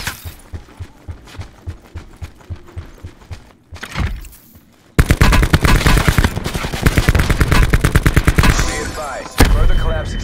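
Rapid bursts of automatic gunfire in an online battle-royale shooter, starting as spaced shots and swelling into loud, sustained sprays after a brief lull, with close, dense volleys.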